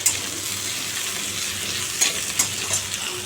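Nigella seeds sizzle in hot oil as a tempering for fish curry: a continuous, fairly loud crackling fry with a few sharper pops and stirring scrapes near the middle, heard alone.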